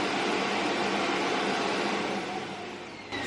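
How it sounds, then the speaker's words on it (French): A robot vacuum emptying its bag into its base station tower, a loud, steady broadband suction roar that holds throughout and eases slightly near the end, with no talk. "C'est le robot aspirateur là, qui vient d'aller se vider son sac dans la tour."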